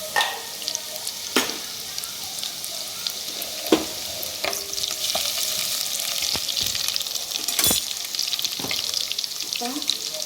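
A spoonful of cumin seeds sizzling in hot oil, a continuous bright crackle close by with scattered sharp pops and occasional clinks of a utensil against the pan.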